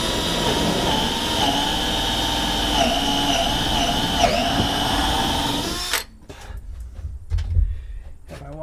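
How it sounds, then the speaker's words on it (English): A power drill boring a wiring hole in a porch ceiling whines steadily at high speed for about six seconds, then cuts off, leaving quieter handling noises and faint movement. "I want to drill this hole."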